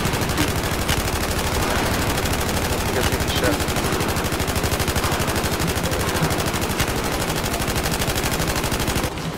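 Rapid automatic gunfire from a Battlefield 4 match: loud, dense bursts rattle almost without pause for about nine seconds, then cut off abruptly near the end.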